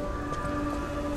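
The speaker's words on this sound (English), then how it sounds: "why is it raining though?" Rain falls in the Lies of P video game's Barren Swamp Tram Station, a steady hiss of drops under faint tonal game ambience, moderately loud and continuous with no talking.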